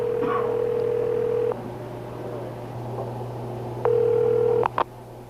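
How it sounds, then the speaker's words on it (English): Telephone dialing a call to a pay station number: a steady dial tone, then a cut, a second tone burst and a quick pair of clicks as the handset line connects, heard clearly with no voices. "places the call to the pay station number"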